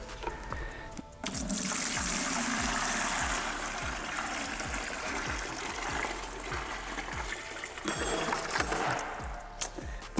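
Water splashing and trickling after braided fishing line snaps in a breaking-strength test, with rhythmic mechanical ticking underneath and a couple of sharp clatters near the start and end.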